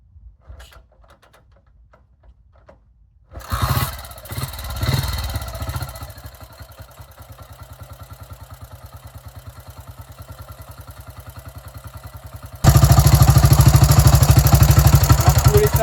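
A 1951 Motoconfort C45S vintage motorcycle is kicked a few times before its engine catches, then settles into a steady rapid chugging idle that jumps to a louder, harder beat near the end.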